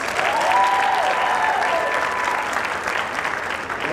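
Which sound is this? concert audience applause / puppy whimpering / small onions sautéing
concert audience applause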